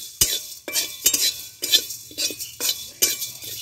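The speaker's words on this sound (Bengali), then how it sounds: "এবার একটু ভাজা ভাজা করে নেব সব মশলাগুলো।" Whole spices such as coriander, cumin, cardamom, cinnamon, cloves and black pepper dry roasting in a pan, stirred with a metal spoon that scrapes and clinks in a steady rhythm of sharp strokes, close and alone.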